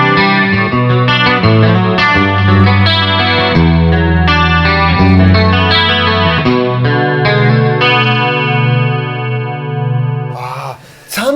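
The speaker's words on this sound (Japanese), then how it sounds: "続きましてはタイムアルペジオ。" Electric guitar, a Les Paul with mahogany body, played through the Time Arpeggio effect on a Yamaha THR30II Wireless digital amp, producing continuous chorused, echoing arpeggiated notes that ring out loud and alone before a brief break near the end.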